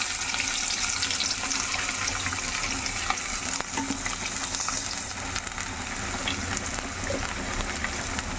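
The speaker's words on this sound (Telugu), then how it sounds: "ఆనియన్స్ బాగా ఫ్రై అవ్వాలి" Sliced onions, three to four of them, frying in a pan with a loud, dense, continuous sizzle and crackle, close up and steady with faint stirring scrapes underneath.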